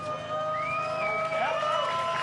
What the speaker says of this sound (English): A good cheer there for Michael Mørkø, who is, of course, a very popular rider in Denmark.